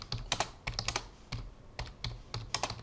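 Close, quick keystrokes on a computer keyboard come in uneven bursts with short pauses between words, and nobody speaks.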